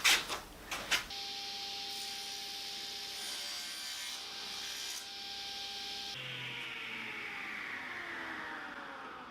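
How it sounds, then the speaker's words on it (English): Mitered ends being cut on Fijian kauri timber for a box, a few short rough strokes and then a long sustained, fairly loud cutting rasp that drops in pitch near the end. "And now I'm just cutting the miters."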